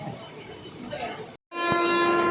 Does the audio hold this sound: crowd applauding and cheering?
no